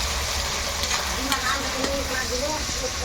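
Village-style chicken curry bubbles and sizzles in a pot over a rural Bengali cooking fire, a steady frying hiss with faint stirring scrapes and clicks, close and continuous, with no talk.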